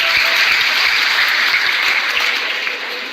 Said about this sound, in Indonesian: Tepuk tangan buat Anda semua di sini.